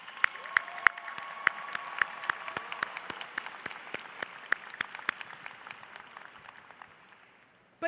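Commencement audience at a Brooklyn College graduation ceremony applauding steadily, dense clapping with a few sharper individual claps standing out, fading gradually toward the end.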